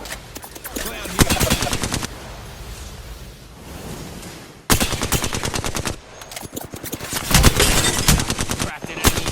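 Rapid automatic gunfire in the video game HP Origins, long rattling bursts broken by a brief pause, then renewed dense volleys with a faint voice underneath.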